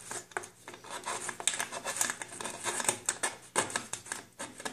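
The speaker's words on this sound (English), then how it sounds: "So I'll use a utility knife and score down in the lowest part of this groove." A utility knife scores a line along the groove of an aluminum can being made into an alcohol stove, producing a steady, close, gritty scraping that runs for several seconds in quick, uneven strokes.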